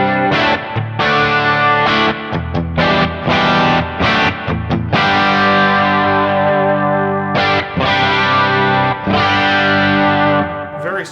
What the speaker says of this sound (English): I've taken that same vintagey sounding CE1 chorus, but moved it to the back